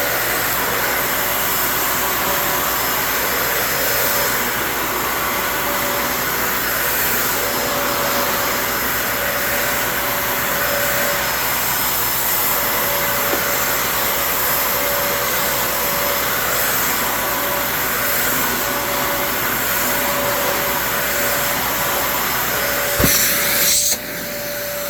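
A Shark vacuum cleaner runs on carpet, a loud, steady motor whine with a constant tone that holds for the whole stretch and then gives a brief clatter near the end.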